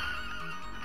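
A horse neighs in the Knights of the Round video game, a short whinny heard alone over steady game background sound.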